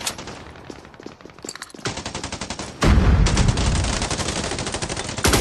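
Rapid automatic gunfire in the battle royale game Scarfall 2.0, dense loud bursts from close by with a brief gap, then an even heavier sustained volley with a booming low end.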